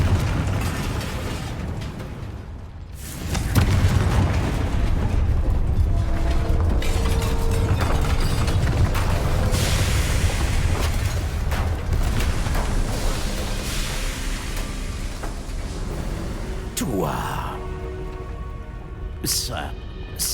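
A Confringo fire spell goes off in Hogwarts Legacy, a loud, sustained burst of crackling and rumbling that fills the scene amid other game sounds and layered effects.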